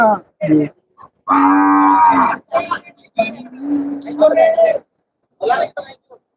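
Cattle moo loudly and close by at the Melapalayam cattle market, giving a couple of long lowing calls among the crowd of a busy market, with people talking nearby.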